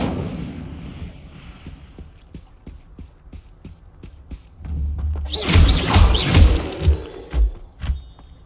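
A fire spell being cast in a video game sets off a sudden roaring, crackling burst that swells loudly after a run of dull rhythmic thumps, then flickers and fades.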